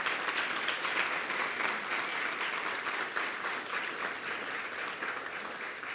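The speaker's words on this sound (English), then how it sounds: "stand for one more round of applause for a job well done" An audience at the Chicago Silver Circle Honors ceremony stands and claps steadily, a full dense round of applause that stays strong and fades slightly toward the end.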